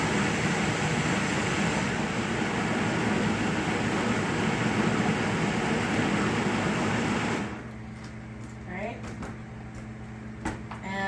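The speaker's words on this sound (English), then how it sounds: "And I'm going to get it all blended up." A Vitamix blender blending pumpkin pie filling roars loudly and steadily for about seven seconds, then cuts off, leaving quieter kitchen sounds.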